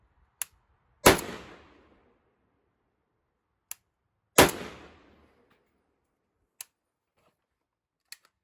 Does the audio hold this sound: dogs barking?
no